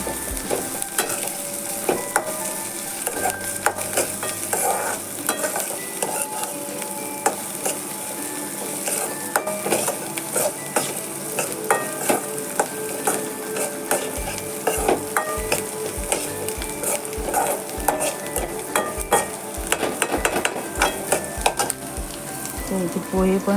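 Poha fries in a pan with steady sizzling and continual stirring, a spatula repeatedly scraping and knocking against the metal, with a rhythmic low thumping toward the end.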